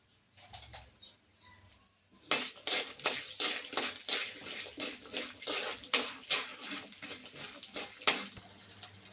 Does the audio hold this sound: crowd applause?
no